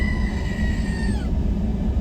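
A voice imitates a goat scream outdoors at a beach: a single strained, wavering cry that slides downward and breaks off, over steady wind-like background noise.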